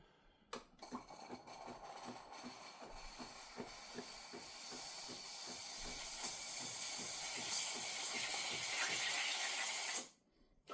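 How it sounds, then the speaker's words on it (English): A loud, steady hiss of steam from a Tuni E2 espresso machine wand, building slightly over about ten seconds with a faint rhythmic gurgle underneath, then cutting off. "we go ahead and steam a little bit"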